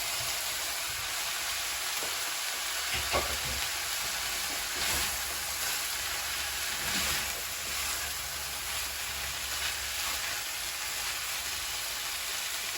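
Green chili, onion, parsley and paprika fry in a pan for an aloo keema filling, giving a steady, close sizzle that holds evenly throughout with a few faint stirring knocks and no talking.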